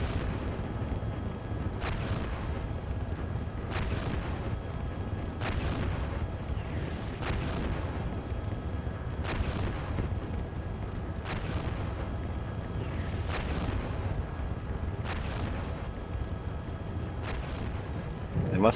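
Artillery fire in a war video game, with distant, heavy booms landing roughly every two seconds in a steady series over a constant low rumble.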